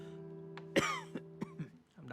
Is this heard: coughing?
yes